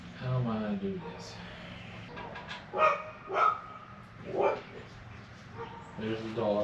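Dogs bark several times at a distance, spaced-out yaps and woofs over faint background noise.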